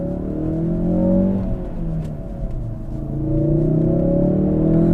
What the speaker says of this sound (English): Oh, backfires.